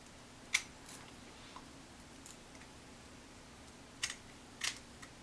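Scissors snip through wig lace during a wig install, a few separate sharp clicks spaced apart in a quiet room, with one early cut and a short cluster near the end.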